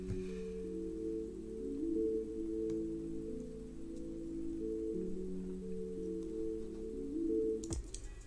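A muffled, dull downsampled guitar melody in a beat made in FL Studio, with only low tones, as if heavily filtered, plays steadily for several seconds before a quick sweep cuts it off.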